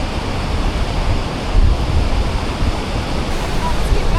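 Steady roaring rush of a falling Yosemite waterfall, broadband and continuous, with gusty wind noise buffeting the microphone throughout.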